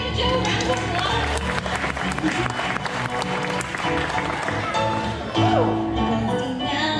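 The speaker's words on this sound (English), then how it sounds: "Everyone give Joe a round of applause." At an Old Tucson western show, the audience gives sustained applause for a volunteer dancer. The clapping is busy and fairly full and lasts about seven seconds, with crowd voices and some background music under it.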